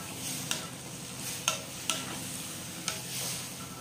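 A spoon scrapes and clinks against a pan in a few sharp strokes over a quiet, steady sizzle of frying food.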